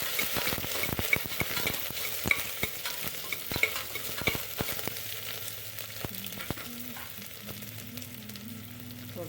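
Two sliced white onions frying in a little oil, a soft continuous sizzle with frequent sharp spoon knocks and scrapes on the pan, close but fairly quiet.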